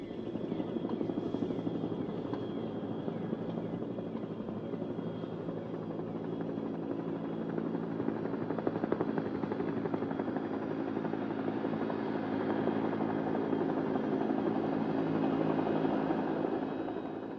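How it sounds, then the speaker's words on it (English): A helicopter's steady rotor thrum and engine whine carry on continuously at moderate distance, fairly faint but unbroken throughout. "the helicopters are on their way to resupply the forts"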